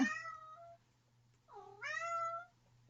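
A cat meows twice, the first call short and the second longer and rising, heard alone against a faint steady hum.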